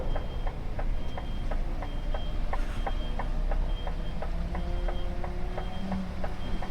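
A Class 1 recycling truck on a Bradford collection round reverses with a steady, evenly spaced electronic beeping. The beeps repeat regularly over constant engine rumble and carry on throughout.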